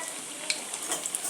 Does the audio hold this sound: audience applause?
no